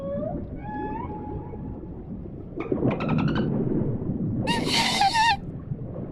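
Dolphin calls from the underwater video game Dave the Diver: a few rising whistles, then a quick burst of clicks and a louder cluster of chirping whistles over a steady low background wash.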